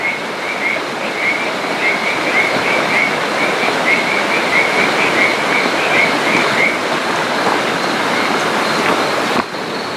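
A river flowing at night, a steady broadband rush of water that holds loud and even throughout, with a faint high chirping of insects or frogs above it for the first several seconds.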